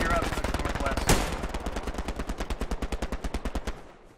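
Machine gun in the WWII shooter Hell Let Loose fires a long, rapid, evenly spaced burst, loud and close, with one sharper shot near the start and the fire tapering at the end.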